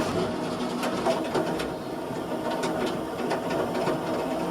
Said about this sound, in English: this will turn on the engine